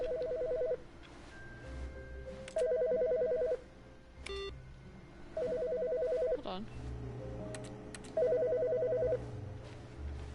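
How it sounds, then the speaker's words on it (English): A telephone rings in The Stanley Parable: Ultra Deluxe, sounding four distinct bursts of trilling electronic rings with pauses between, and a voice speaks briefly. "I heard a phone ringing."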